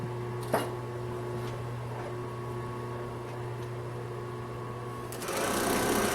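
A Singer 261-1 sewing machine runs steadily and smoothly, a continuous close mechanical whir with a steady hum that grows louder and faster near the end.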